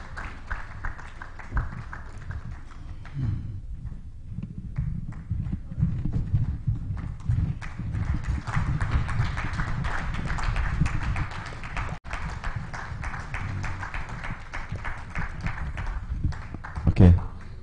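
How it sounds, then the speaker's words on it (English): A crowd at an oil and gas event applauds the young organizers, sustained clapping running throughout, mixed with some background voices. "I think the applause says it"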